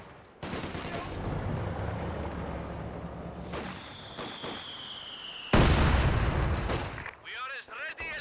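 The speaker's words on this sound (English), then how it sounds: "here is that nerfed heavy mortar" Heavy mortar firing in a strategy video game: two heavy booming blasts, the second one louder and closer, with a whistling tone and scattered battle noise between them, under a commentator's voice.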